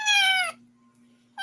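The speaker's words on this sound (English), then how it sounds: "I've never seen Gail's new kitten" A kitten gives one clear, high meow lasting about half a second, with a quiet low hum indoors after it and the start of a second meow cut off at the end.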